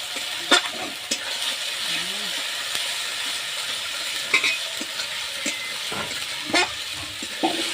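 Taro root paste frying in a pan in a village kitchen, giving a steady soft sizzle with occasional clinks of stirring throughout.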